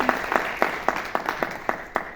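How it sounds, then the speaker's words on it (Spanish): Sparse audience applause after a Spanish-language talk on spirituality and CBD, heard as a handful of slow, rhythmic claps spaced roughly a third of a second apart, moderately loud in a room with no voices over them. "Un fuerte aplauso, por favor."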